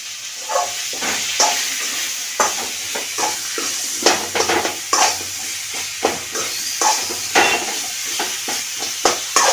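Vegetables are sautéed in a little ghee, stirred hard in a pan with a steady sizzle broken by frequent rhythmic scrapes and knocks of the spatula, loud and close.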